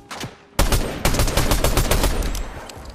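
Loud, close rapid gunfire from a Fortnite match opens with a sharp blast, then a fast string of shots rattles on for about two seconds before tailing off.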